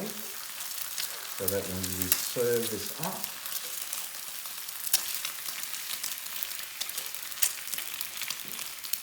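Eggs and bacon frying in a pan give a constant crackling sizzle with sharp pops throughout, while someone talks over it at moments.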